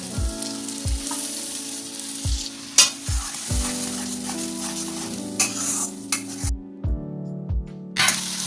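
A paste of mustard, green chili and poppy seeds fries in a pan for rohu fish, with a loud steady sizzle and a spoon scraping and stirring in repeated strokes.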